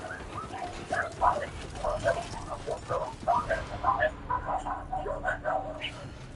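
Dogs in Death Stranding 2 yip, whimper and bark in short overlapping bursts, moderately close, while a narrator speaks over them.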